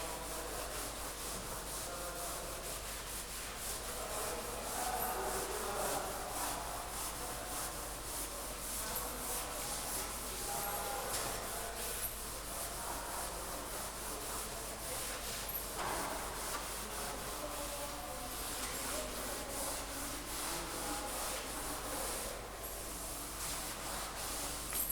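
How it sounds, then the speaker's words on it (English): Steady rubbing of a board being wiped clean goes on for the whole stretch, a continuous close scuffing with slight swells in intensity and no pauses. "So I am rubbing the board."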